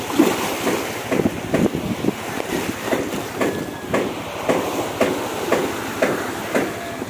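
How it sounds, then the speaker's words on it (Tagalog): Big sea waves pounding during a typhoon, a rhythmic series of broad crashing surges with strong wind buffeting the microphone, loud and continuous. "Dagko kayo mga balod."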